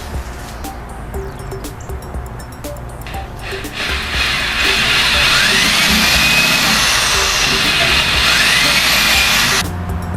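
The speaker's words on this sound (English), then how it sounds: "I'm going to drill that hole out a little bit larger" A power drill bores out a hole with a larger bit in the wood of an old desk, quiet buzzing at first then a loud, steady whining grind for several seconds before stopping.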